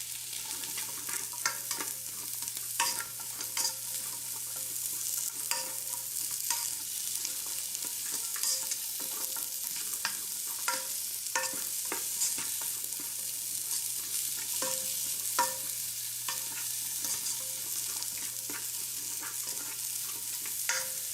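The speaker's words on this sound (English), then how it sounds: "Ooh, sizzle, very nice. That's what I want to hear." Chopped vegetables, minus the cabbage, sizzle steadily in a hot pan, sautéed for Filipino chicken pasta soup, a constant frying hiss with frequent clicks and scrapes of stirring, no voices.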